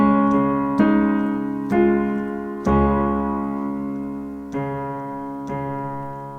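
Piano playing the Raise A Hallelujah interlude with both hands together, a handful of sustained chords struck slowly one after another, each ringing out and decaying, clear and close with no talking.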